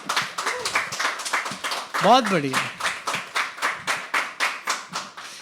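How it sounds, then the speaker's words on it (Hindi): Open mic poetry audience clapping in a steady, even rhythm of single claps, close and fairly loud, with a voice speaking briefly over it partway through. "अब एक बार तालियां बजाकर आप अपना जोश दिखा दो"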